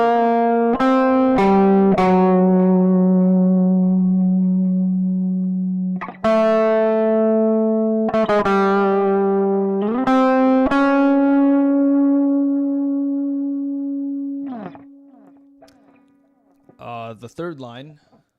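A single guitar plays the Shadow of Mordor main theme alone, with slow sustained notes and bends rising and falling across the opening two phrases, loud and close with no talk over it.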